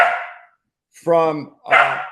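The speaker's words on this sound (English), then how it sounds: "I have 2 Australian cattle dogs and it's okay." Australian cattle dogs bark and yelp in three short, close bursts separated by brief silences, with a tonal, whining edge on the middle one.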